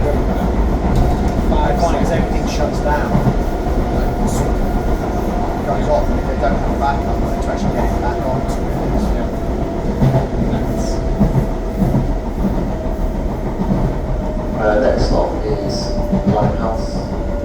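A London DLR light-rail train running between Tower Gateway and Beckton, with a steady loud rumble and wheel clatter throughout and occasional squeals and knocks, heard from on board.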